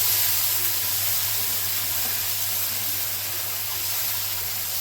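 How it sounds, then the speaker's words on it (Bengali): Spice paste for Bengali shukto, a traditional vegetable curry, fries in a pan with a loud, steady hiss and sizzle that runs unbroken and close throughout. "মশলাটাকে ভেজে নেব সুন্দর করে।"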